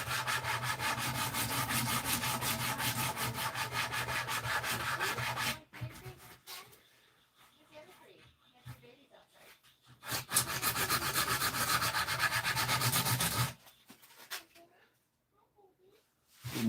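A wooden handle for a Marbles Guidesman replica knife shaped by hand with a rasp or sandpaper: two long bursts of steady, close rasping strokes separated by quieter pauses with faint handling noise.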